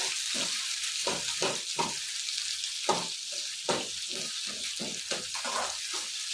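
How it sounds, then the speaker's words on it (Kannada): Green chillies splutter and sizzle in hot oil, giving a steady frying hiss broken by many sharp, irregular pops close by with no talking. "ಹಸಿಮೆಣಸಿನ್ಕಾಯಿ ಪಟ್ ಪಟ್ ಅಂತ ಹೊಡೆಯುತ್ತೆ"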